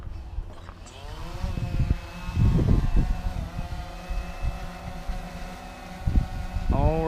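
A small camera drone powers up and lifts off, its motors rising into a buzzing whine and wavering over low rumble, then spinning up again near the end, with some faint voice in the background.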